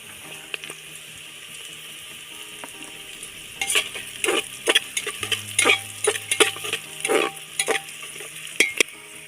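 Cashews and raisins frying lightly in a pan for egg dum fried rice, a soft background sizzle broken by a run of close, irregular stirring scrapes and clinks, with no voices.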